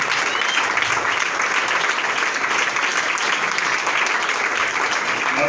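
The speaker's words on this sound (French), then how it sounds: "Please give him a big hand." Sustained applause from a church congregation, steady and dense throughout, filling the room without pause or voices standing out.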